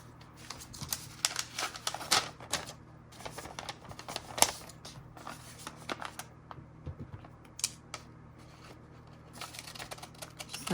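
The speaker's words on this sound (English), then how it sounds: "we're going to do the pinking shears on this side" Pinking shears snip through tracing paper in a run of close, crisp clicks and crunches, some sharper than others, with a steady low hum underneath.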